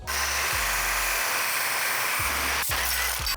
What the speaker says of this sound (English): We're going to start by cutting this outer plate off.